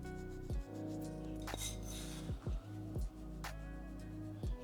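Seasoning is rubbed by hand into oiled pieces of meat, giving soft, close rubbing and squishing with a few faint thumps as the pieces are handled, with no talking.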